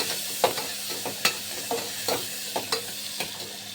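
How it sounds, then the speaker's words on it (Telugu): Ivy gourd (dondakai) curry with turmeric stirred in a pan, soft sizzling under a regular series of spatula scrapes and taps, about seven or eight strokes in a steady rhythm, close and quiet. "బాగా కలిపేసుకోవాలి"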